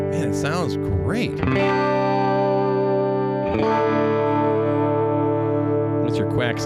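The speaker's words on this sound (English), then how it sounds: "That's your quack sound right there." Electric guitar in the neck pickup position, played through a NU-X MP2 Mighty modeling amp plug, ringing out quacky sustained chords with effects colouring, restruck once midway and again near the end; a voice talks briefly over the start.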